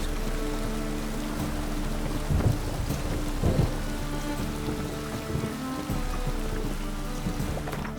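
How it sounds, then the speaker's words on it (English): Steady rain pours down while low thunder rumbles in the distance in the video game The Witcher 3, a continuous stormy wash with no voices. "Rain was coming."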